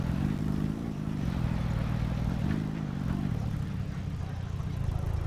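A vehicle's engine in the Scrap Mechanic video game hums with a low, steady rumble and slight surges of revving as it drives, moderately quiet and continuous.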